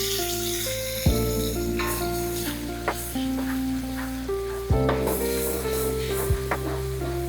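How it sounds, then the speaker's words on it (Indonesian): Ground spice paste with lemongrass stalks fries in a pan over low heat, a soft steady sizzle under background music with occasional knocks of stirring. "Ini kita goreng dia sampai dia wangi ya, sampai dia agak sat ya, sampai dia mengering."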